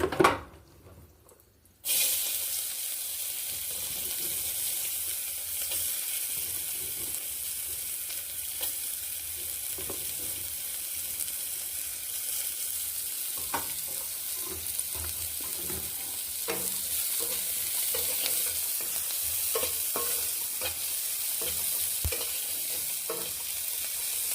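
Chopped onions frying in oil in a pan for an egg chop, a steady loud sizzle running throughout after a brief quiet opening, with faint clinks and stirring scrapes scattered on top.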